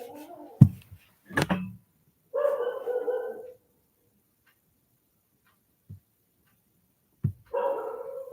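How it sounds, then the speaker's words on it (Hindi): Dogs barking outdoors in a few short, separated bursts, moderately loud with quiet gaps between, no talk over them. "चलिए अब देखें कुत्ते भी बाहर तेज होने लगे हैं।"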